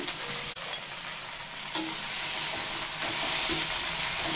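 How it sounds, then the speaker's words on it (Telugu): Gongura leaves hit hot oil over a medium flame with a steady, loud sizzle and a few stirring scrapes, close up with no voices. "ఆయిల్ హీట్ అయింది, దీంట్లో గోంగూరని పెట్టేయండి."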